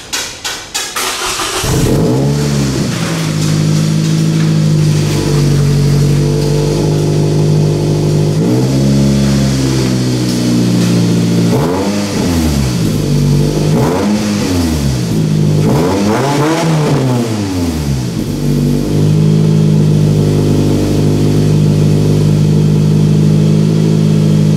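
A Toyota 2AZ-FE engine in a Scion tC idles loudly up close, then revs repeatedly in sharp bursts that climb and drop back, several blips in a row.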